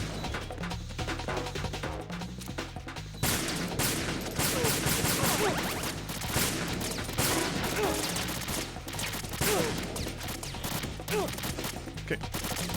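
Shotgun fire in the video game Metal Gear Solid 2 comes as dense, repeated blasts over the length of the scene. The shots grow heavier and more rapid after the first few seconds, with game action clatter mixed in.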